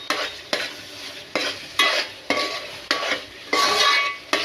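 A spatula stirs and scrapes through frying fish curry base in a wide pan, in regular strokes about every half second, with sizzling oil hissing between the strokes.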